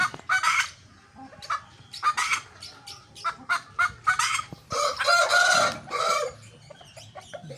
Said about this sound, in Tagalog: ito naman Spanish white face black chicken